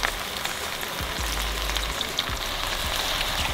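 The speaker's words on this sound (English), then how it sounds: "So now we're gonna put in the bone broth." Bone broth poured into a pot for homemade chicken noodle soup, giving a steady, close wash of liquid noise with a faint sizzling hiss throughout, no talking.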